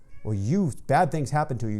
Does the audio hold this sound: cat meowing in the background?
yes